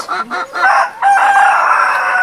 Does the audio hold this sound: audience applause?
no